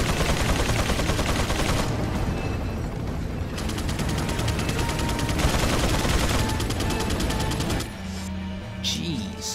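Rapid gunfire in Resident Evil 4: dense bursts of loud, close shots and automatic fire for most of the clip, easing near the end into quieter echoing sounds.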